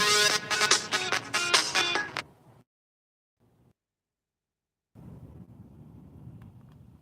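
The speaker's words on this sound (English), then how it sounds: "Sorry, Mona, I can't take a phone call right now." A phone ringtone sounds for about two seconds, a loud, tonal repeating pattern, then cuts off abruptly. Silence follows, then faint background noise returns.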